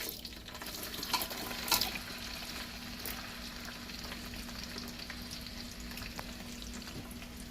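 Onion fries in hot oil for jollof rice with a steady, close sizzle and crackle, a few louder stirring knocks early on, then an even hiss; no talk.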